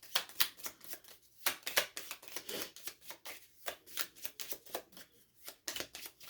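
A deck of Dyan Garris oracle cards is shuffled by hand in quick, soft riffling bursts, close and quiet.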